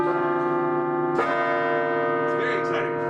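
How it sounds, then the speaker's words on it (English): Mayo Clinic carillon bells ring steadily with a rich, sustained tone, a new peal striking in partway through and layering over the lingering hum. "You can hear the bells again."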